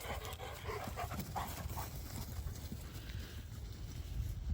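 Several dogs dash about outdoors in Nova Scotia, their panting and scrambling paws steady and fairly faint against a broad background hiss, with no voices.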